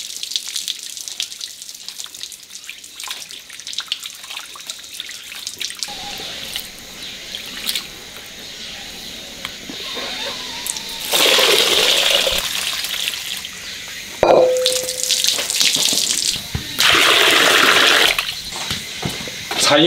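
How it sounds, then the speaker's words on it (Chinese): Silkworm pupae being washed under a running tap: water gushes on and off in several bursts with splashing and trickling between them, one sharp knock midway, recorded close up. "买了三斤蠶蛹，先给它洗一下"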